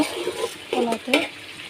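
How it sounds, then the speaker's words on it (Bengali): Hot water is poured into beef cooking in a pot, setting off a loud, close sizzling hiss that swells in a few quick surges over about two seconds. "এই যে এখন আমি দিয়ে দিতেছি গরম পানি মাংসে"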